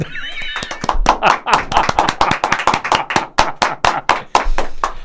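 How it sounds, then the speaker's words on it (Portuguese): Left-wing Bloco supporters in an audience clap their hands in a quick, uneven burst of sharp slaps close by, with voices and laughter mixed in. "E agora tenho os meus amigos bloquistas todos a bater palmas"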